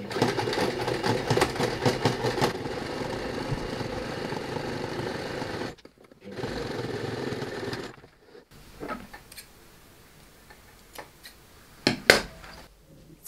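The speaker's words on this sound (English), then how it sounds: "I just did some top basting stitch here around the outside edge of the fly on this backside" A sewing machine runs a basting stitch along the fly of upcycled men's jeans, a steady close mechanical whir for several seconds that stops, briefly resumes, then gives way to quieter handling clicks.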